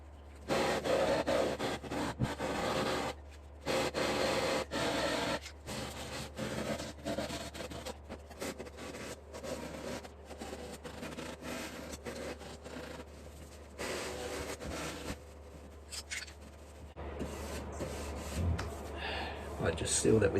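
A slowed-down sanding tool rubs and scrapes close by in repeated bursts of harsh abrasive friction separated by short pauses, running steadily for a long stretch in a shop.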